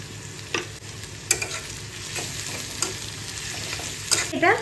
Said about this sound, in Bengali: খুব আস্তে আস্তে এটা ভাজা হবে।